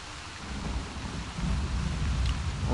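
Thunderstorm in Uncharted: The Lost Legacy, a continuous low rumble of thunder over steady rain, loud and enveloping with no voices.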